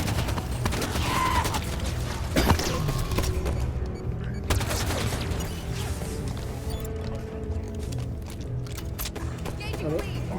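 Shotgun blasts and other gunfire in Halo 5 combat, repeated sharp shots and crashes over dense game noise and mechanical clatter, with talking at times.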